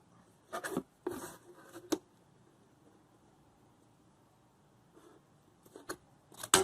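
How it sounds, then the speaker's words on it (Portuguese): A pencil scratches across paper while a technical drawing is made, coming in short bursts of strokes separated by quiet pauses, close and fairly soft, with a final sharper tap at the end. "E agora eu vou desenhar."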